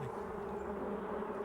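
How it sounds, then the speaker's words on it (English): Wasps buzzing around a nest, a steady close droning hum that holds unbroken and even throughout, with no voices or other sounds. "There was a wasp's nest, where his heart should have been."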